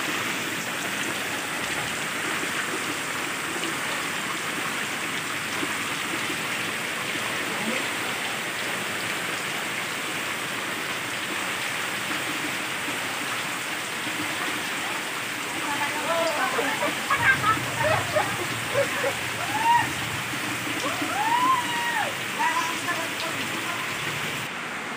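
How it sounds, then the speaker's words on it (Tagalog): Floodwater rises with waves at high tide in a coastal village, making a continuous rushing, splashing wash of water throughout, with a person speaking over it. "nasa harapan na namin yung alon, tubig"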